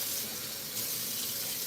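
Cold water running from a kitchen tap, a short steady hiss and splash of a filling stream, fairly quiet and uninterrupted, with no talking.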